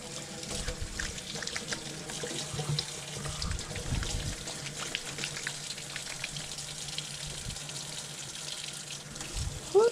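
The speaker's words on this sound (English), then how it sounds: "I'm going to have to wash my hands." A water tap runs for hand washing, giving a fairly quiet, continuous splashing hiss into a sink with light handling noise throughout.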